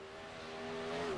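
Super late model race cars drone around Lucas Oil Speedway, a steady distant engine hum that rises slightly and shifts in pitch as the pack laps.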